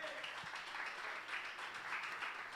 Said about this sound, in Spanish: Levante su mano a darle un gran aplauso a nuestro Dios.